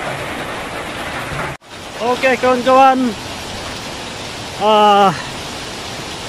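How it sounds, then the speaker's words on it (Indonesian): Rain keeps falling near Mahua Waterfall as a steady background hiss, while someone speaks in short bursts over it. "Sekarang masih hujan lagi, masih belum berhenti."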